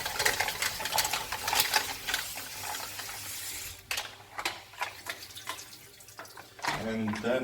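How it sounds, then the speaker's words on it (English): Tomatoes washed under a running tap for a mussel and tomato soup, heard as a steady close hiss of flowing water with splashing and handling, and a voice talking over parts of it. "wash the tomatoes."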